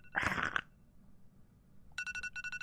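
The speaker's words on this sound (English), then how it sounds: "Jack, you've turned off your phone alarm" A phone alarm rings inside the horror game The Upside Down, a bright trilling ringtone in two rapid pulsing bursts, heard after a short loud sound at the start and a quiet pause.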